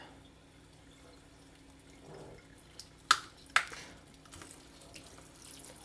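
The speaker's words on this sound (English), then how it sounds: "A little bit of a shower so you can see." Shower water running over phones, a soft steady spray with a couple of sharp splashing bursts in the middle, fairly faint and close, with no voices.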